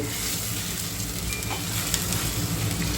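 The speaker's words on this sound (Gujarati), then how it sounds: "ચાલો તો જો સબ્જીનો વઘાર લાગી ગયો છે," Hot oil sizzles and crackles steadily and loudly as spices temper for a chole curry, a dense spitting hiss with no voices.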